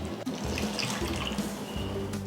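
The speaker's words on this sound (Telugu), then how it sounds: "ఇంకా కొన్ని వాటర్ వేసుకుందాం ఇందులో," Water poured into thick onion masala gravy in a pan, a brief continuous splashing gush heard up close.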